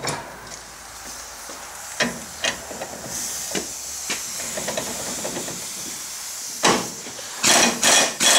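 Air tool hissing and rattling while working on a Ford F250 ball joint, with steady compressed-air hiss through the middle and several sharp bursts near the end.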